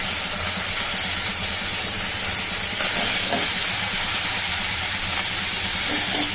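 Tomato hits a hot pan during vegetarian thali cooking and sets off a loud, steady sizzling hiss that stays close and constant, with no talking over it.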